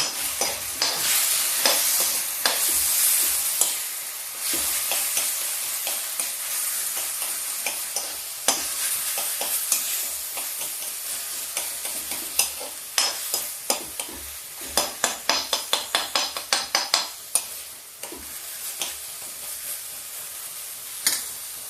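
Fasting-style halwa roasting in a pan makes a continuous dry sizzle, with a spoon scraping and stirring in steady rhythmic strokes that turn into a quick run of sharp taps near the end, close and without talk.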